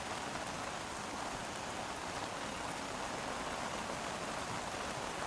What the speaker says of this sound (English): Got to be tough for the keepers to try and keep their eyes open through this heavy rain.